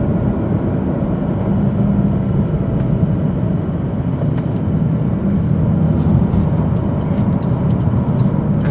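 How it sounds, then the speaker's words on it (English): Porsche 911 Turbo of the 992 generation with its exhaust flaps open in sport mode, driving through city traffic: a steady, loud low engine and exhaust drone that holds constant throughout, with no talking. "And you get much more pronounced exhaust system, exhaust sound."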